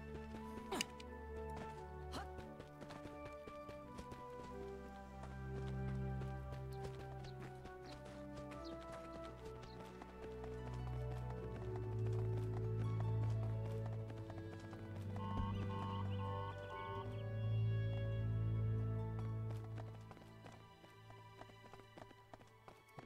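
Horse hooves gallop at a steady clip-clop rhythm in Sword Art Online Alicization Lycoris, set against a loud game music score with tonal layers throughout.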